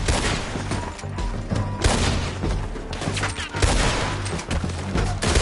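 Gunfire in the video game Red Dead Redemption 2, a dense, continuous fusillade of rapid shots and booming reports that keeps up throughout with no pause.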